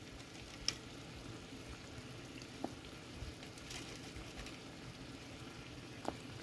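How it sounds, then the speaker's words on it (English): Salted water boiling in a pot for ravioli, a faint steady bubbling hiss with occasional soft pops and ticks, quiet and alone. "Got the water nice and hot, boiling."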